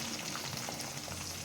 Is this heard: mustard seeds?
yes